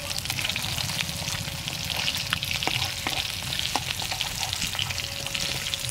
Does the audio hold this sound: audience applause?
no